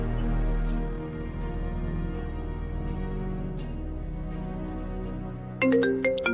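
A phone ringtone for an incoming call, a repeating melodic tone with a steady low hum beneath it and a brighter chime that cuts in near the end.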